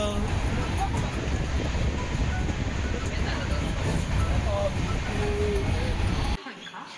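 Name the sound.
train departing Cooch Behar station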